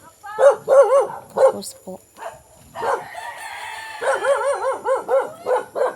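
Dogs bark in repeated loud, close bursts along a rural road, their yelps coming in quick runs with short pauses between, and a voice is briefly heard among them.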